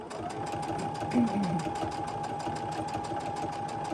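A sewing machine double-stitching quilt fabric runs in a steady, fast rhythmic whir with a constant tone, close and continuous throughout, with a brief soft voice-like sound partway through.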